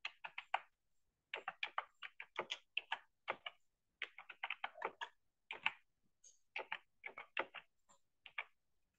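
A name being typed on a computer keyboard, quick close bursts of crisp keystrokes separated by short pauses in an otherwise silent room.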